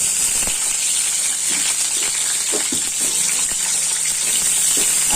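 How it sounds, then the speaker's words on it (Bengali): Whole potatoes frying in hot oil in a wok make a loud, constant hissing sizzle close by, broken by faint scattered pops and clinks. "মাংসটা ম্যারিনেট হতে হতে আমি এদিকে আলুটা ভেজে নিচ্ছি।"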